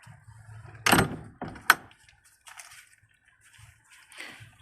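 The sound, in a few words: door being closed on a pallet chicken coop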